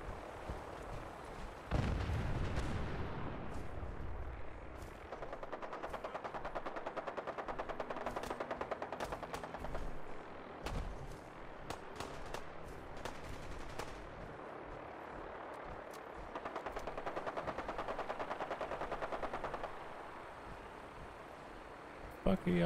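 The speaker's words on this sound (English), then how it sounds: "Fuck are y'all shooting at?" Fallout 4 combat brings rapid machine-gun bursts and heavy booming blasts, loud and dense through most of the stretch with occasional single shots, while a voice speaks over the fighting.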